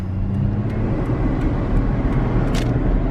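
A wrecked car with a broken tachometer picking up speed on the road, a loud steady engine and road rumble heard from inside the cabin, with a few faint ticks, no voices.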